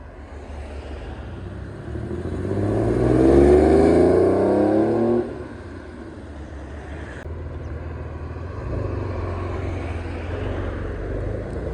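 A Porsche sports car, such as a 997 Carrera GTS or 997.2 GT3, accelerating hard past a car show crowd, engine note rising and swelling loudly for a couple of seconds, then fading into lower traffic rumble.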